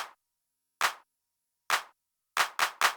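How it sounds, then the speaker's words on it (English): Six dry, washed-out clap drum hits sound alone in an uneven pattern, each sharp and fairly loud with a short soft decay; three are widely spaced and the last three come in a quick run. "this clap sounds a bit washed out"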